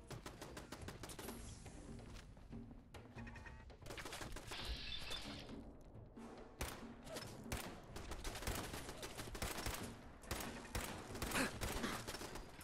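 Gameplay gunfire in Fallout 4, sniper rifle included: dense runs of sharp, cracking shots with a few short pauses, plus brief shattering and impact noises, kept fairly quiet in the mix with no talking.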